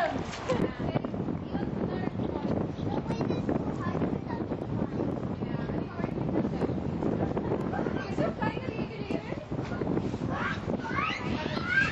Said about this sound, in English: I think it's the wind sound.